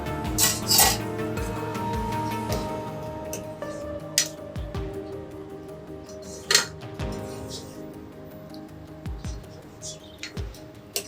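A pan lid comes off a simmering chilli egg curry with a few metallic clinks and knocks over a steady low bubbling and kitchen background, heard close with no talking.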